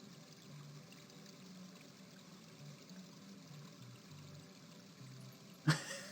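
Steady, quiet pouring water runs through King's Quest V town scene, a continuous stream-like wash with faint music beneath and a single brief knock near the end.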